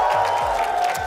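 An esports arena crowd at a VCT Americas Valorant match cheers and whoops loudly as free merchandise is tossed into the stands, a dense, sustained roar of voices with scattered claps.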